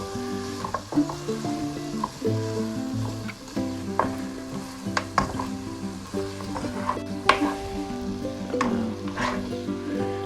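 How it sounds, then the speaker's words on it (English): Masala of onion, meat and oil sizzles and fries in a pan over turned-down heat for goshth pilau, with steady crackling and repeated stirring scrapes close by. "I've turned the heat down just so the masala can cook"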